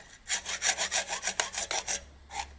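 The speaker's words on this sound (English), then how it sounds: "Why are you using a hacksaw?" A hacksaw cutting through brass in quick, regular back-and-forth strokes, about a dozen rasping pulls close up, pausing briefly before one last stroke.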